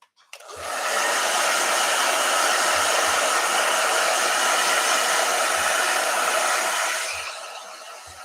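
A blow dryer switches on with a quick rise, runs as a loud, steady rushing whir for about six seconds, then winds down at the end.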